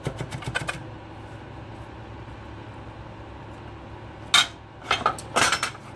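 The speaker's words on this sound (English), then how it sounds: "Some pieces didn't quite cut so much, so I'm just going to take my knife back through" A kitchen knife chops shallots on a cutting board during salad prep, with a quick run of close, sharp taps at the start and a few louder chops near the end, a quiet stretch between them.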